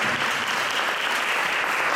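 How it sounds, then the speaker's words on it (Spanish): Steady applause from an audience at an international experts' conference, a dense even wash of clapping that holds at a moderate level throughout. "Aplauso, por favor"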